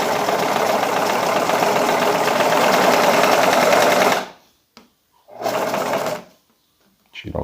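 A home sewing machine runs steadily through a seam on a copied garment for about four seconds, then stops and gives one more short burst, its motor whir close and loud with no talking.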